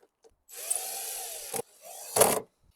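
A power driver tightens long screws, with a sustained close whine lasting about a second, then a short pause and a second, briefer burst of motor noise ending in a sharp rise as the screw seats.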